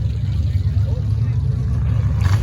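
Demolition derby cars roll into a muddy inspection line, their engines a low, steady rumble close by, with talk over the top.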